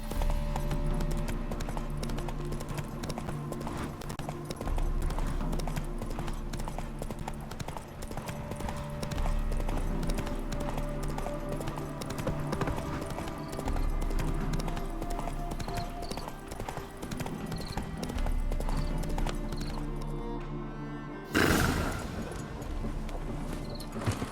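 Steady clip-clopping hooves continue throughout over a busy background score, with a horse's brief whinny near the end, in The Witcher 3: Hearts of Stone.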